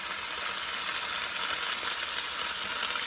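Chopped garlic and ginger frying in a pan, giving a constant bright sizzle with a faint crackle that holds steady at close range, with no talking.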